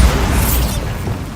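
A Bombarda spell explosion in Hogwarts Legacy lands as a loud, sustained booming blast that fills the first part of the clip, then rumbles and decays over about a second before a brief sharp burst at the end.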